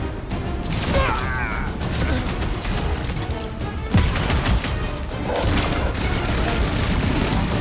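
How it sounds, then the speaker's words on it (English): Sniper fire in the PS5 game Marvel's Guardians of the Galaxy comes as loud, dense bursts of gunshots. Mechanical clanks and crashes run through the whole stretch. "Make sure those snipers don't hit you either."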